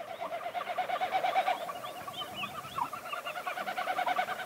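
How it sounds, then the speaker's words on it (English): A bittern calls repeatedly from a marsh at dusk, low rhythmic hooting and booming phrases carrying over open water, moderately distant, with other birds chirping faintly in the background and no voices. "We hear the bittern calling for roughly half an hour as the sun's last glow fades away."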